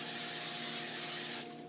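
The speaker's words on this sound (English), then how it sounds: "I'm going to spray this side of the grill pan." Cooking spray hisses in one steady blast of about a second and a half onto a grill pan, then cuts off sharply, leaving a faint kitchen hum.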